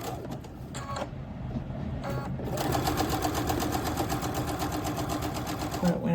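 A sewing machine stitches quilt pieces in short bursts, then settles into a fast, even mechanical whir with rapid needle clatter, close and steady.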